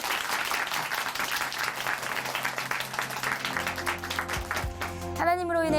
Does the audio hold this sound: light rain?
no